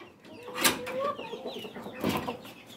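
Rhode Island Red rooster and hens clucking close by in a breeder pen, a steady run of short clucks with a couple of louder bursts, alone without talk.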